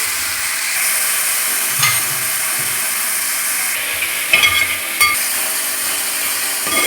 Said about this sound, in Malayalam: ചതച്ച ചെറിയ ഉള്ളിയാണ് ഇത്, ചതച്ചെടുത്തേക്കുന്നതാണ്. ഇത് വഴറ്റി കൊടുക്കാം.